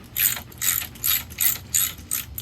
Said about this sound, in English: we could ratchet these down